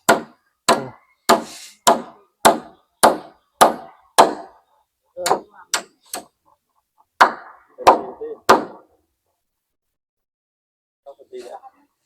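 Sharp, loud hammer blows struck one after another in a steady rhythm, about a dozen in all, then a pause and faint knocking.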